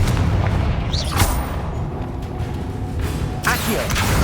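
Confringo spell blasts in the video game Hogwarts Legacy, booming fiery impacts over constant loud battle noise, with a sharp burst near the start and another toward the end, partly under talk.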